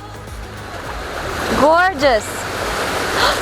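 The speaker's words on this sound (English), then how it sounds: "Oh, I love the splash though. It's perfect." Ocean surf washes onto a beach at golden hour in a continuous, close hiss, while a voice speaks briefly over it.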